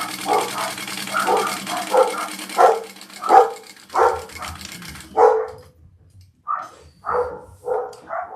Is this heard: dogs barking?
yes